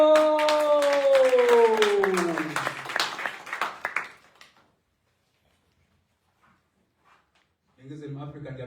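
Applause from an audience at a live poetry slam show, a crowd clapping under amplified voices and tones for about four seconds before fading to near silence, then talk resumes.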